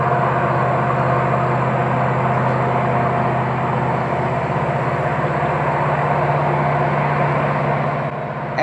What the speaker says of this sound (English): This next one, as we see here, is a Norfolk Southern westbound trash train as he smokes his way up the hill past Horseshoe Curve